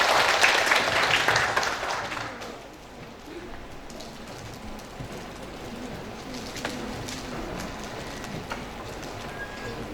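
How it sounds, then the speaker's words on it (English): Conference audience applauding the moderator at an Islamic studies event: a dense burst of clapping loudest in the first two seconds, then fading into a softer, scattered patter with room noise for the rest. "please give a round of applause for our moderator, Mr. Hilman Latief."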